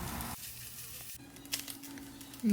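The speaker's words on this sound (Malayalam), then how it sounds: "നമുക്ക് നല്ലോണം ബ്രൗൺ കളർ ആവോളം വറുത്തെടുക്കുക" Shallots, garlic and curry leaves fry in a pan with a steady, close sizzle and hiss, and a faint rustle or stir near the end.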